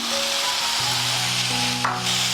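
Tomatoes sauté in a hot pan for an Indian egg gravy as a piece of coconut is added, giving a steady, close sizzle with a brief stirring scrape partway through.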